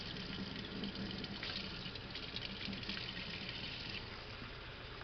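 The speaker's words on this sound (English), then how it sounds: "I'm going to go ahead and grab 1 cup of warm water." Warm water runs steadily from a tap to fill a one-cup measure in a kitchen, a constant close gushing that holds evenly throughout.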